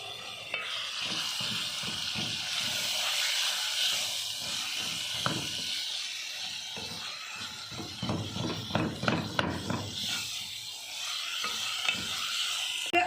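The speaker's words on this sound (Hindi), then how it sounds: "अभी चिकन को 3-4 मिनट के लिए भूनना है।" Chicken keema frying in a pan over lowered heat, a steady sizzle with repeated scraping stirs that grow busier toward the end.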